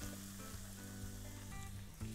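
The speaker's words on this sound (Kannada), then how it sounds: "ಈಗ ಇದನ್ನು ಚಂದಂಗೆ ಹುರ್ಕೋಬೇಕು ನೋಡ್ರಿ, 1-10 ನಿಮಿಷರೇ ಹುರ್ಕೋಬೇಕಾಗ್ತೈತಿ ತುಪ್ಪದಾಗ" Grated carrots fry in ghee for carrot halwa, giving a faint, steady sizzle with soft crackles and a low background hum, and no voices.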